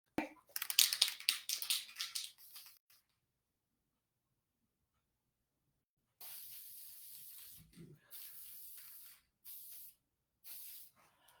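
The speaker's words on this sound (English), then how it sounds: "now I'm going to spray this" Spray paint hisses onto a Paint Stik tree topper in dense bursts for a few seconds, then after a pause comes a longer run of steadier spraying broken by short gaps, fairly quiet and with no talk.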